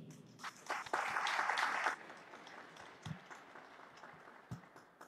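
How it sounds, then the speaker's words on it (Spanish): Audience applause in a provincial auditorium in Arequipa, Peru, moderate and somewhat distant, swelling briefly to a denser burst before thinning into scattered claps with faint background murmur. "Le damos un fuerte y merecido aplauso."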